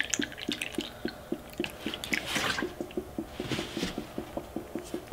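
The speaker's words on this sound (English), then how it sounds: "See that bubbling?" Coolant bubbling and gurgling in a Mini Cooper S cooling system being bled of air after an overhaul, a rapid regular series of small wet pops with some liquid spatter, close and moderately loud.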